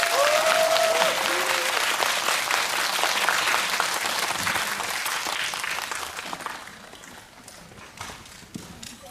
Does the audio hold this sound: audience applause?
yes